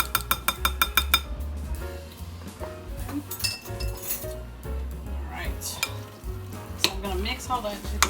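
Meatloaf ingredients, ground meat with yellow mustard, being stirred together in a bowl with clinking utensils and pan sounds, a steady busy mix of scrapes and clinks close by.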